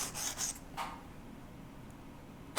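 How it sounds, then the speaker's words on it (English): A coarse 100 grit pad filing small metal edges, a few faint brief rasping strokes near the start, then a quiet hiss. "I want to file them, and I think this little coarse 100 grit pad works great"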